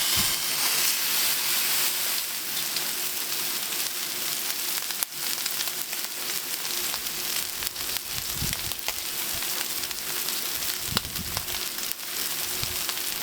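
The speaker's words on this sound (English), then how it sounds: "Let's get sizzling." A steak sears hot and fast on a Traeger Flatrock griddle, a loud continuous sizzle and hiss that runs throughout, with brief bursts of clatter from flipping.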